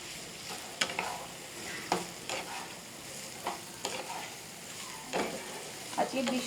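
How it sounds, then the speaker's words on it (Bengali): Vegetables frying with salt in a pan, a soft continuous sizzle punctuated by regular scraping strokes of stirring, close and fairly quiet. "লবণ দিয়ে আমি সবজিটাকে ভালো করে ভেজে নেব।"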